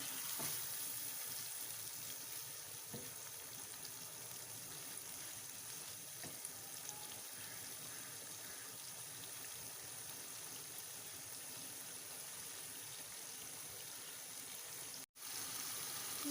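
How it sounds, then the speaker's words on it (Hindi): Liver and tripe (kaleji pota) fry in a pan with a steady, quiet hiss and crackle that runs without a break, close and unvoiced. "हम इसे अच्छी तरह से भून लेंगे।"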